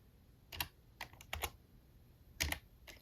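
Keys on a computer keyboard are tapped in short clusters while a command is entered, several crisp close clicks spaced unevenly over a few seconds, with a faint hum behind them and no voices.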